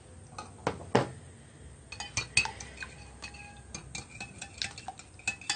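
Eggs being beaten in a bowl with a utensil for besan egg halwa, giving irregular metallic clinks and taps against the bowl, sparse at first and then quicker, close by with no talking.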